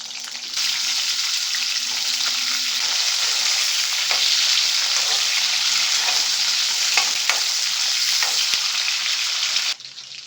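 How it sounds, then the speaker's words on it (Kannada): Pieces of drumstick sizzle steadily in hot oil in a pan, a loud continuous crackling hiss that persists for about nine seconds before cutting off. "ಎಣ್ಣೆ ಕಾದಿದೆ, ನುಗ್ಗೆಕಾಯಿ ಹಾಕ್ಕೊಳ್ತಾ ಇದ್ದೀನಿ."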